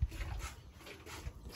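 A dog close by on a farm where a cow is being milked gives faint, brief low whimpers and muffled grunting sounds, quiet and without speech.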